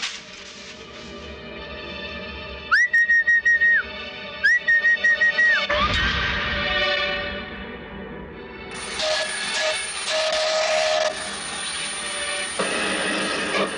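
A steam train whistle in a film, two sets of rapid repeated sharp toots, then a rushing blast and a long sustained shrill whistle under a rumbling engine.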